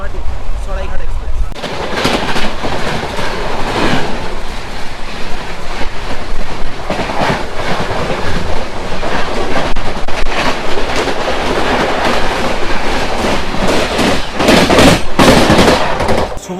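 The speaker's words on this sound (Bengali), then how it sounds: "চলে আসছে গাড়ির সংখ্যা 1, 2, 3, 4, 5 হাওড়া থেকে গুয়াহাটি সরাইঘাট এক্সপ্রেস" The Howrah–Guwahati Saraighat Express rolls past at Bardhaman station in a loud, continuous rumble and clatter of wheels and coaches, with sharp rattling bangs and a voice faintly audible underneath.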